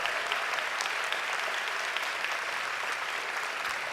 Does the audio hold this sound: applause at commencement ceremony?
yes